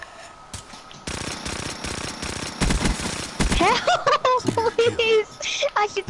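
Shotgun fire in Call of Duty Black Ops 3: a run of rapid, loud game shots, followed by a person's excited voice over the game sounds.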